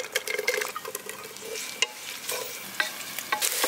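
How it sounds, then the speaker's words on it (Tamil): Long-sliced large onions frying in oil in a pressure cooker for mutton biryani, with a steady close sizzle broken by repeated scraping stir strokes and clinks of a spoon, no talking. "4 பெரிய வெங்காயத்தை நீள நீளமா நறுக்கி வச்சிருக்கோம், சேர்த்துக்கலாம்."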